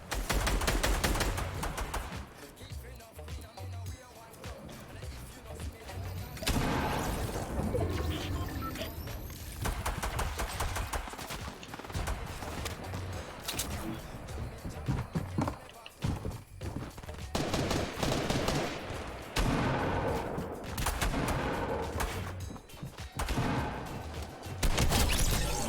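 Rapid video-game gunfire with heavy shotgun blasts, dense and loud bursts of shots overlapping almost without pause, with players talking over the fighting.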